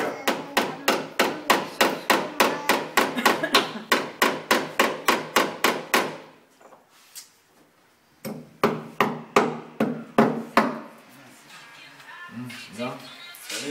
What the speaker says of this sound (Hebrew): לא יודע לדפוק פה את מסמר אפילו, אתה רואה?